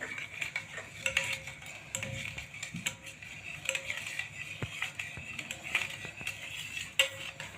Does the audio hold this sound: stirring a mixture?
yes